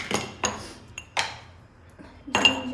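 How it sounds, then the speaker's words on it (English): Ginger being crushed: several separate hard knocks against a metal pot or utensil, close and uneven, with short pauses between strikes. "We crush the ginger."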